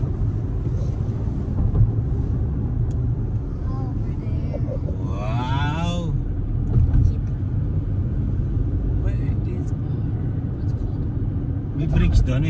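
Road traffic near Vancouver heard from inside a moving car, a steady low rumble of tires and engine throughout, with people talking over it for much of the time.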